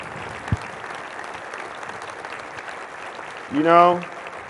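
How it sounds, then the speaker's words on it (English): Sustained audience applause fills a hall during a civic address with a council present, steady and fairly loud throughout, with a brief voice rising near the end. "give you a big round of applause"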